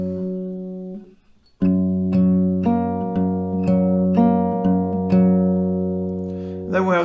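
Guitar melody picked note by note, a steady run of clear plucked single notes with ringing sustain, with a brief gap near the start.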